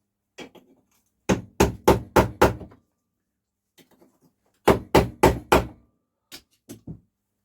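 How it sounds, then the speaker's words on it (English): Two bursts of sharp metallic taps, four or five strikes each in quick rhythm, close and loud, as rivets are knocked back through a carburettor part from a Douglas motorcycle, with a few lighter taps in between. "So I'm going to see if they will just tap back in to hold this together."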